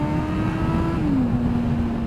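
A Kawasaki ZX9R motorcycle engine holds a loud, steady high-rev drone at full throttle, then its pitch dips slightly and settles, with no talking.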